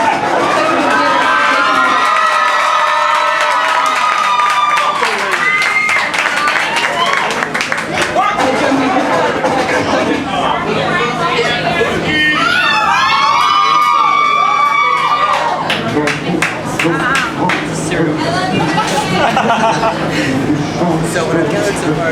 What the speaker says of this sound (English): Crowds are singing and shouting in excitement outside the U.S.